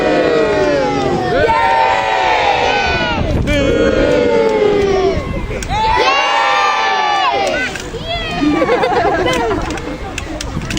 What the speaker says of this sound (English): Gotta get a cheer for Spanish Tony!